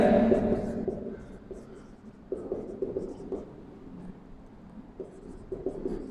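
Marker or chalk strokes writing on a board during a maths lecture, soft intermittent scratching and tapping in short bursts, quiet and close with faint speech-like murmuring at times.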